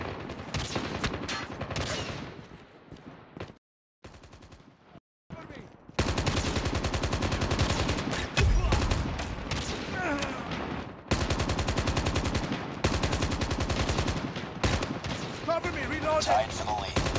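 Sniper rifle shots and bursts of automatic gunfire in the Call of Duty Mobile game ring out loud and dense, with brief silent gaps, under game music and announcer voice callouts.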